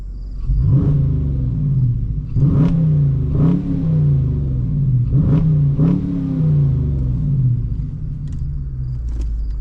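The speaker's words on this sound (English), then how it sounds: "But first things first, rev test." A Dodge Challenger R/T engine in sport mode revs hard several times in a row, each roar climbing and dropping back to a deep rumbling idle, loud and close.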